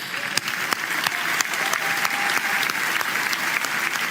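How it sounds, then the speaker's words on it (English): Steady audience applause fills a ceremony hall at the Ballon d'Or awards, a dense wash of clapping from a large crowd lasting throughout, with a faint voice briefly audible beneath it. "We can applaud them, please."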